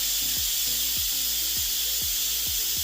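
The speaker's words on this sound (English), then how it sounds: "the Instapot has just went off. Now we have to let this cool off. Let that steam release" Instant Pot pressure cooker venting steam, a loud, continuous hiss that fills the whole clip, with a low rhythmic rubbing or pulsing underneath.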